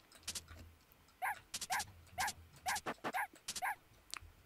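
Barking dog in an Amiga video game, a series of short, sharp, repeated barks in an uneven rhythm, fairly close over a faint low background hum.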